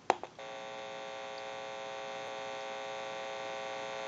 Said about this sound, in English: you should be able to hear a slight hum